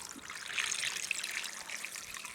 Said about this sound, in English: we'll add water